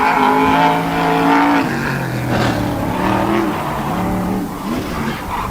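A tour-type modified race car at Wall Stadium accelerates hard after taking the green flag in qualifying, its loud engine note climbing and shifting pitch over a steady roar, with a brief tire-squeal edge and no talk.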